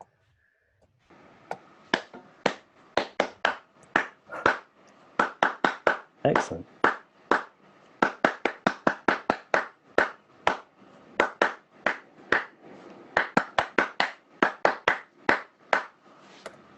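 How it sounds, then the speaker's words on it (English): A recording of hand clapping played back, a long run of sharp separate claps in uneven bursts and clusters over a quiet background, with a brief spoken word partway through. "I've got your clapping straight into Soundtrap."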